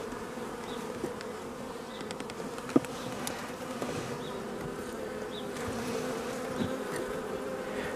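Steady buzzing of honeybees at an apiary fills the clip, a continuous drone with a few individual insects passing close, and one brief tap partway through.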